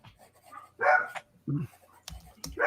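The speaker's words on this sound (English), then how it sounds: "Whose dog is that?" A dog barks a few short, nearby yaps between bits of indoor studio chatter, the barks separated by brief pauses.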